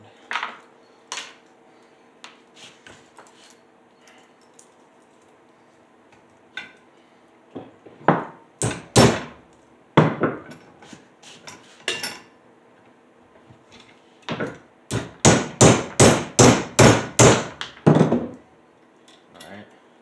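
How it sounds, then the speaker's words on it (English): Sharp metallic hammer blows on a metal trap bracket, scattered at first, then a fast run of about nine evenly spaced strikes near the end. "Let's see if I can't hammer this a little bit more"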